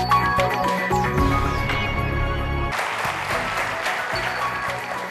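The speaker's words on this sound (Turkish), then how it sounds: "Niye kısa kestiniz alkışı?" Studio audience applause on a Turkish TV word game show, steady clapping for the first half before a shift to thinner, looser clapping with faint tonal studio sound underneath.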